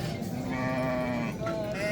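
Sheep bleating at a busy livestock market, a sustained wavering bleat followed by a shorter one, close and fairly loud over crowd murmur and nearby talk.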